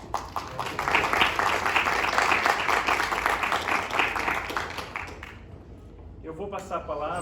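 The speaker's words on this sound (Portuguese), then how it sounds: "Então, uma salva de palmas." Audience applause at an academic panel on teacher education policy, a steady dense clapping from a crowd lasting several seconds before fading out into quieter room sound and a voice.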